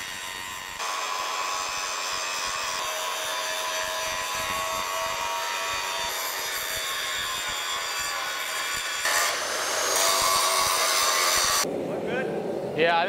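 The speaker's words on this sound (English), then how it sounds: "it's good to grind off the major ridges of the twisted steel to make sure everything looks clean inside the billet" A grinder bears on a twisted Damascus steel billet, taking off the major ridges with a loud, continuous, close-up rasping whine that shifts in pitch and intensity as contact changes, then cuts off near the end.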